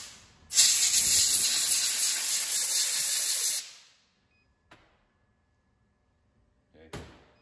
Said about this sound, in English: go ahead and purge and let the air get the rest of the alcohol out